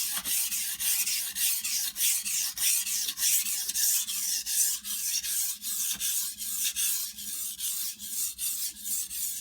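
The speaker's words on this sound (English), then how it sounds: "So I'm at the pretty heavy pressure here to form this burr." A knife's primary edge, thinned to about 20 degrees, is ground on a sharpening stone under heavy pressure, a steady rasping scrape repeated in quick even strokes, close and alone.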